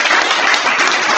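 An audience at a high school press conference gives Sam a round of applause: dense, loud, continuous clapping close by, filling the brief moment without pause.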